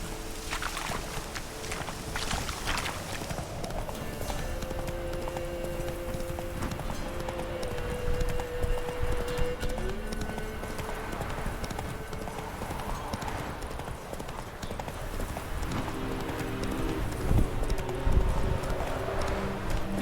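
Roach the horse's hooves from The Witcher 3 clop rhythmically under a game's ambient music and background tones, steady and moderately loud throughout without speech.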